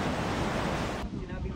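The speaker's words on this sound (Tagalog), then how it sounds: "Malalaki rin ang alon sa dagat sa baybayin ng Sangay sa Camarines Sur." Big sea waves crashing on the coast of Sangay, Camarines Sur, during Super Typhoon Pepito, a loud continuous roar of surf mixed with heavy wind buffeting the microphone.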